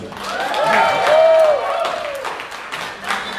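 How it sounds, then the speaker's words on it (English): A crowd in Dubai applauds and cheers steadily for a performer at a hosted show, with whoops and voices rising over the clapping before it eases off slightly. "let's give her a Dubai applause, Miss Lani Misalocha."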